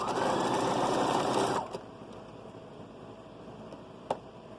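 A sewing machine stitches a child's hat in a loud, fast, even whir for about a second and a half, then stops, leaving quiet room noise and a single small click.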